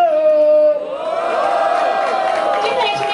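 At a rap battle, a crowd roars and shouts in a loud sustained wave of cheering that follows a host's voice, with whoops rising over the general din.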